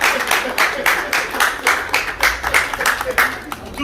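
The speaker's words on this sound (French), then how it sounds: "Est-ce qu'on peut applaudir très très fort?" An audience applauds and claps at a wedding celebration in a steady patter of many hands. Crowd noise and voices run through it at a fairly close, lively level.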